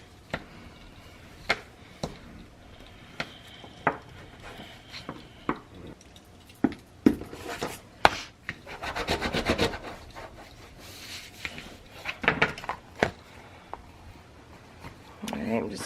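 A glued book cover is burnished down by hand, giving repeated rubbing and scraping strokes in uneven bursts, close and fairly loud, with a voice speaking now and then between them.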